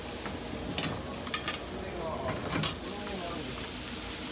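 Food sizzles steadily on a hot skillet just after a flame sear, a broad continuous hiss with a few brief clinks and stirring noises, with voices talking faintly in the background.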